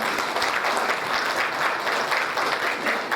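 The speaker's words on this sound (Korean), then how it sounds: "큰 박수 부탁드립니다" Crowd applause at an inauguration ceremony for an advisory council chairman in Atlanta, a dense, even clapping that carries on without a break.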